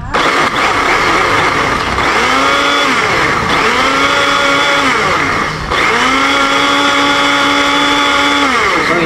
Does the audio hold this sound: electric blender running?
yes